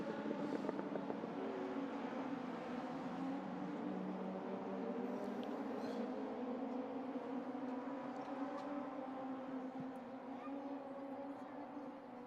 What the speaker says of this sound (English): Through the S's, distinctive sound of these Z-Techs